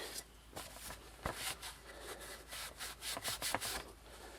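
Scrubbing around the taillight area of a Tesla Model 3, where a poorly welded or stress-cracked seam lets water leak in: repeated close rubbing strokes in an uneven rhythm with a few sharper scrapes.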